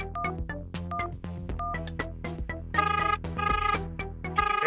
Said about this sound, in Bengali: রিং তো হচ্ছে